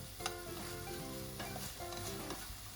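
Tteokbokki rice cakes frying in sesame oil in a pan, steadily sizzling while being stirred, with scraping strokes and a constant crackle close up and no talking.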